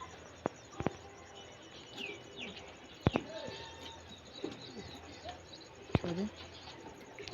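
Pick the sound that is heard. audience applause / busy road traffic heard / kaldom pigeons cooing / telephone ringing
kaldom pigeons cooing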